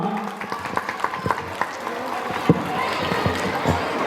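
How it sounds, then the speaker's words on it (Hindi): Parents and guests clapping at a school event, a scattered patter of applause with sharp individual claps, fairly close, under a busy crowd murmur. "तालियां"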